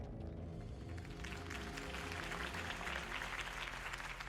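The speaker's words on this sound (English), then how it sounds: "could have heard that applause" Crowd applause rendered in Batman: The Telltale Series at a Harvey Dent campaign rally, a sustained wash of many clapping hands at moderate level with a low murmur underneath.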